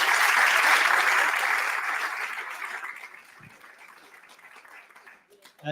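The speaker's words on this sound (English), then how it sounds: "Round of applause." A concert audience at a silver band performance gives a round of applause that begins full and lively, then thins and fades to scattered claps before the end.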